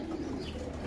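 Pigeons coo softly and continuously in the background, a low, faint, rolling murmur with no talking.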